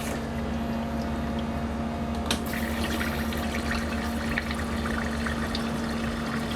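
Water filling a boat's marine toilet head, a continuous close rush of flowing liquid over a steady pump hum, with one brief clunk partway through.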